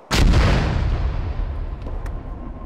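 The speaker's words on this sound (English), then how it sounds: "Oh, I got to watch that mortar fall." A mortar shell slams down in the Arma military game with one sudden heavy boom, its rumbling tail slowly fading over a couple of seconds with no talk.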